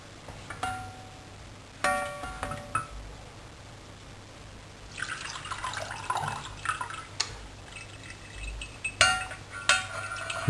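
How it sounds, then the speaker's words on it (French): Cooking juices from chicken in cider vinegar are poured and strained through a chinois sieve, a soft liquid trickle and drip with clinks of metal utensils against the pot, close and quiet with no talking. "Le passer au chinois."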